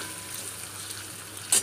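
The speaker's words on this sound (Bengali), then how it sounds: "আলুটা ভেজে রেখে দেবো, তারপর ভেন্ডিটা ভাজবো" Potatoes fry in a pan with a steady, fairly loud sizzling hiss throughout, close by, with a brief sharp clink of metal near the end and no talk.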